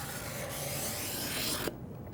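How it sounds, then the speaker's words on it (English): A cabinet scraper draws across an oak board in one long, loud raspy stroke up close, ending abruptly with a quieter scraping tail. "A cabinet scraper can make quick work out of smoothing things out."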